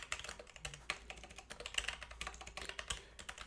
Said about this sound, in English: already starting with the bad typing.